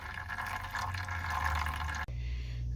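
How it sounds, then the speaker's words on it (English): Old oil drips steadily from a 7.3L Power Stroke oil cooler in a continuous wet patter that shifts briefly near the end, with no voices. "now that it's done dripping its nasty infected goo everywhere"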